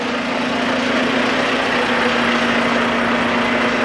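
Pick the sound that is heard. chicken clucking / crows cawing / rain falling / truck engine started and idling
truck engine started and idling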